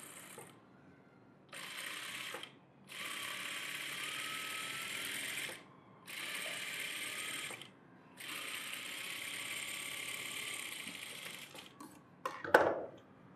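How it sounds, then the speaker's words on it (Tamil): A sewing machine runs a rough tacking stitch through double-layered net blouse fabric in four close bursts of rapid stitching with short gaps between them, ending in a sharp clatter. No one speaks. "இதில் சும்மா ரஃப் ஒரு தையல் போட்டுக்கிறோமா"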